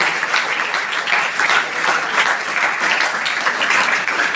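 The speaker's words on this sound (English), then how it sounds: "So, big round of applause to principal ma'am and the rest of the teachers who made this workshop." Sustained applause from a school audience at a 10th-class artificial intelligence workshop, honouring the principal and teachers; dense, steady clapping at close range, continuing evenly without pause and with no voices over it.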